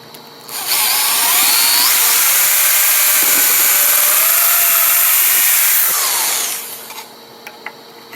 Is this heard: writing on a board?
no